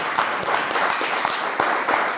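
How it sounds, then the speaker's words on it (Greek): An audience at a Greek seminar on PA arrangers gives a dense, sustained round of applause for Socrates, with many hands clapping close by and steadily. "Ένα χειροκρότημα για τον Σωκράτη"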